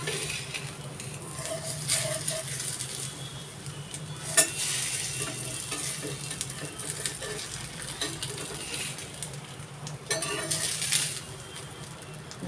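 Neer dosa sizzling steadily on a hot pan, with soft continuous frying crackle, a few sharp metallic clinks of a spatula as it is lifted off, and brief louder scraping bursts.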